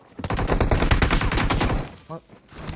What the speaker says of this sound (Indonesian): enak kali lo itu nembak Pak Oi